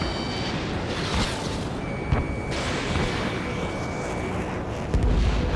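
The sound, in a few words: missile fire and explosions in the video game Ace Combat 7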